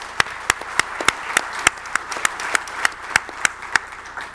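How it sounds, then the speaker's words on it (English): Applause for beverage-competition semifinalists at a live industry showdown comes through as crisp, evenly spaced claps, about three per second, sharp and distinct against a low background hum. "Big round of applause for all our semifinalists"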